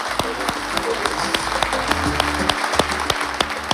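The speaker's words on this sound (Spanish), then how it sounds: "Este aplauso para vos, Rubén." Scattered clapping from a small group in a TV Azteca studio, with sharp individual claps irregularly spaced over a low hum and faint background chatter.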